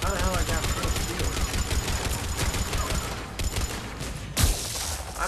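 Rapid automatic gunfire from Mass Effect 3 online co-op combat, dense continuous bursts with sharp shots, a heavy boom near the end, and a player talking over the firing.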